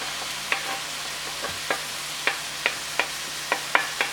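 Peppers stirred into a frying fish stew, a soft steady sizzle under regular spoon taps and scrapes against the pot, close and moderately quiet with no voices.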